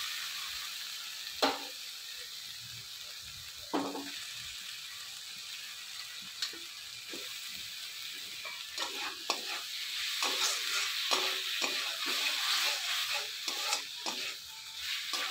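Tomatoes hit a pan of sautéed spice mixture, bringing a steady frying sizzle punctuated by scraping stirs and utensil knocks that grow busier and more crackling toward the end.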